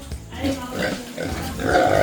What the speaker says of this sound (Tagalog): yun ang mga baboy ko